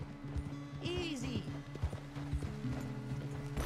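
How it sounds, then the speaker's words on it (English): A horse trots in Red Dead Redemption 2, its hooves clip-clopping in a quick, loose rhythm close by, with creaking tack and a voice briefly heard over the steps. "A trot is like more of a walking pace for a horse"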